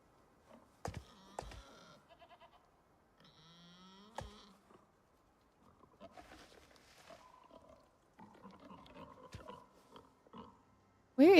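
Angry pigs in a video game squeal and grunt in short harsh bursts, several calls spread across a quiet stretch, some near and some fainter, with a sudden loud noise at the very end.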